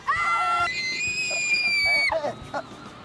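A woman screams loudly in a single sustained, high-pitched cry lasting about two seconds, followed by brief agitated vocal sounds, in an Indonesian film scene.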